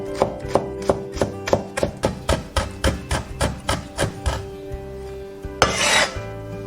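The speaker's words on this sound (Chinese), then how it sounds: "切一点葱白跟姜末" Knife chopping scallion whites and ginger on a cutting board, a quick run of about a dozen sharp, evenly spaced close taps followed by a short scraping sweep, with no talking.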